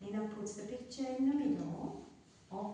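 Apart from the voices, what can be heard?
None of the usual background noises is heard.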